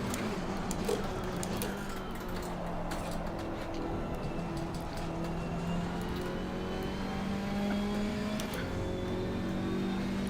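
KTM X-Bow GT4 race car engine in Assetto Corsa Competizione, a steady high drone with gear-change pitch sweeps, running continuously and loudly without any break in the sound.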